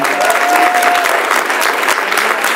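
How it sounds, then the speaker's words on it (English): An audience applauds with dense, loud hand clapping at an award presentation, sustained and close throughout with no speech over it. "Can we give a hand clap to our Alderman with this award one more time?"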